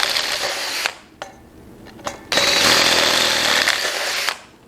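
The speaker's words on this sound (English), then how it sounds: "I usually just run the drill in reverse so it doesn't get grabby on the metal and just punch it out" A handheld power drill, run in reverse, punches a hole through metal on an industrial cylinder-arm sewing machine build. It gives a short high whirring burst, a brief pause with a couple of clicks, then a longer, loud, steady whine before stopping.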